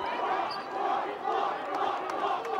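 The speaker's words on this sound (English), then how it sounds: "This crowd is into it." A high school basketball crowd at Champlin Park versus Rice Lake roars and cheers in a steady, loud wash of voices filling the gym, with no clear single speaker.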